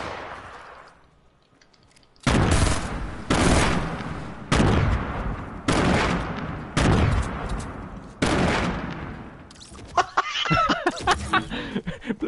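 During a Fortnite battle royale match, a string of heavy, booming blasts repeats about once a second, like a grenade explosion and gunfire, each loud and close, followed by sharper, thinner shots.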